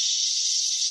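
Someone mimics the waterfall setting of a toilet sound-masking button with a short, steady breathy hiss, close and unbroken for under a second.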